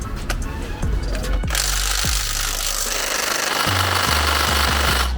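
A Revolt TW 20/350 cordless impact wrench hammers loudly and continuously as it tries to undo a nut, after a few opening clicks, with short pauses between the rattling bursts near the end.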